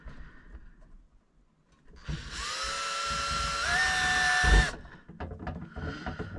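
A power drill whines for a few seconds, its pitch rising slightly as it bites to widen a hole in caravan decoration, then stops abruptly; quiet handling noises follow.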